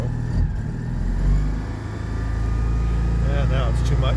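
An engine idles steadily with the choke pulled on all the way, a low, rough, continuous rumble close by, while someone talks over it.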